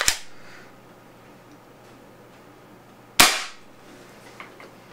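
A Spyder Hammer 7 .68 caliber paintball marker running on a high-pressure air tank fires two sharp, loud shots a few seconds apart, each a crisp pop with a short decay over a quiet background hum.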